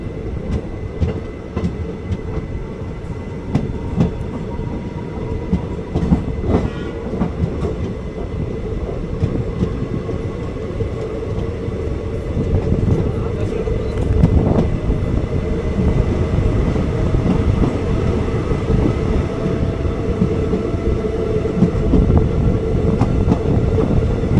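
A moving passenger train, the 06061 Summer Special Express just after leaving Pattukkottai, heard from on board as a loud steady rumble with rhythmic wheel clatter over the rails throughout.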